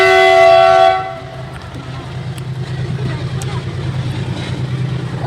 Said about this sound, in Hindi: चलिए, ये ट्रेन तो निकल गई